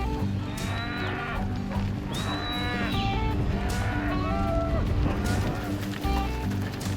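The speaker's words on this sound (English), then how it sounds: "This is Facundo, who looks after 400 head of cattle" A herd of cattle in Patagonia, 400 head tended by gauchos, lows loudly and repeatedly, with overlapping drawn-out moos from several animals close by over a steady outdoor background.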